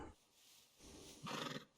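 A horse in the Red Dead Redemption 2 video game gives a short whinny near the end, rising out of quiet ambient game sound.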